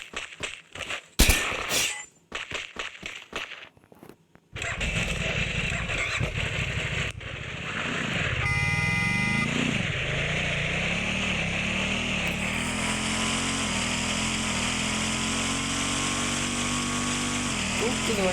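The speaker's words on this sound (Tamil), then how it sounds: "பைக் சவுண்டு கேட்டுடலாம் ஃப்ரெண்ட்ஸ்." A motorbike in the game Free Fire Max starts up and revs, its engine droning steadily with rising and falling pitch, while someone talks over it.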